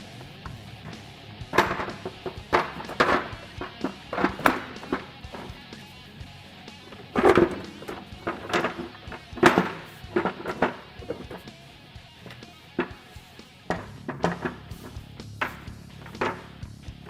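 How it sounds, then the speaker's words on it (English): A clutch cover is refitted on a Polaris RZR Pro XP, with a series of close, irregular knocks, clunks and plastic clatter separated by short quiet gaps. "With that back in place, we can reinstall our cover."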